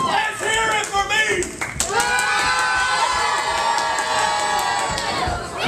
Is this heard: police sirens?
no